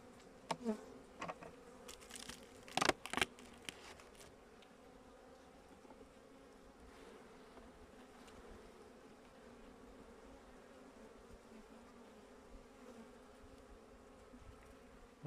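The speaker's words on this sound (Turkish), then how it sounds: "Arı şu tarafta." Honeybees buzz steadily at close range at an opened hive during winter maintenance, a continuous drone with a few sharp taps and bumps near the start.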